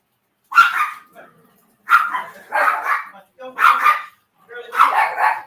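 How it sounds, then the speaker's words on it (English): Dogs barking in four separate bursts over about five seconds, each loud, close, sharp bark clusters with short gaps between them and no other sound around them. "Them badass dogs."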